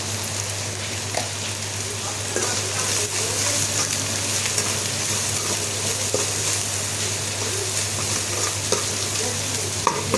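Chili powder and turmeric frying in oil, a dense, continuous close sizzle with a low steady hum beneath and occasional faint stirring taps.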